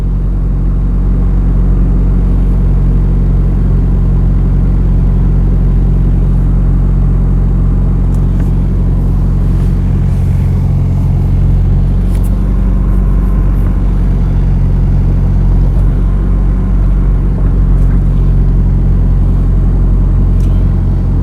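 Road traffic in Kingsland, Manchester, Jamaica, a loud, continuous low rumble of car engines passing and idling nearby, steady throughout with no voices.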